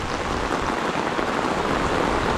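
Rain falling on a canvas double swag tent, a steady dense patter and hiss that stays close and constant, with no voices.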